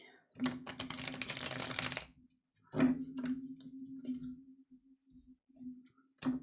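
A deck of oracle cards is shuffled by hand. Two bursts of riffling and sliding card noise sound up close, a long one at the start and a shorter one later. Someone talks between the bursts, and a steady low tone runs underneath.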